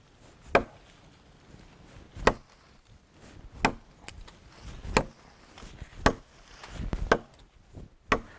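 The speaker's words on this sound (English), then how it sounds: "let's just start chopping on the wood here" Sharp, solid chops of a knife striking wood, about ten blows at an uneven, unhurried pace, close up with quiet pauses between.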